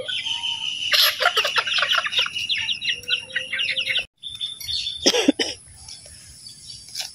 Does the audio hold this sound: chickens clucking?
yes